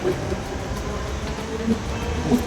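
A Thane-bound train rumbles past in a steady, continuous wash of rail noise, with no voices over it.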